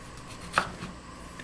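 A kitchen knife makes one crisp chop through food being prepared for meatballs, a single close, sharp strike over a faint room background.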